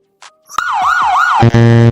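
A siren sound effect added during a video editing tutorial: a loud wailing tone rising and falling in two sweeps, then shifting into a steady, buzzy horn-like blare, with no talking.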